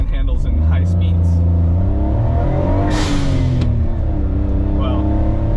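An Autozam AZ-1 (Suzuki Cara) with a front caster fix and larger wheel drives at highway speed. The engine drones steadily and rises in pitch, with constant road and wind noise under someone talking.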